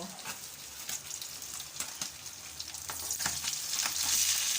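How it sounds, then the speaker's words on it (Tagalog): Fish frying in a pan sizzles and spits with a steady crackle, scattered sharp pops, and a gradual rise in loudness near the end, heard alone at close range. "piniprito ko muna bago po ako magulay kasi sasahugan natin kahit 1 piraso o 2 piraso ng isda"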